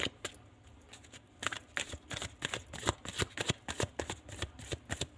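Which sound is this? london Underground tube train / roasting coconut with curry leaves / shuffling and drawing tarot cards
shuffling and drawing tarot cards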